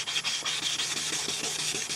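Hand sanding a car headlight lens, a close, rhythmic back-and-forth rasping scrub with quick regular strokes and no voices.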